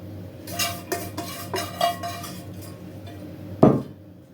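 Carrots are tipped into a large two-bucket cooking pot already holding vegetables, giving a series of light clattering taps and scrapes followed by one louder hollow thud.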